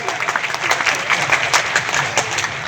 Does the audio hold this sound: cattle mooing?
no